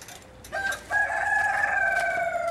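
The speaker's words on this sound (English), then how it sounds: "Mr. Rooster is howling away inside the shed." A rooster crows inside a shed. There is a short clucking call, then one loud, sustained crow held at close range for over a second and a half.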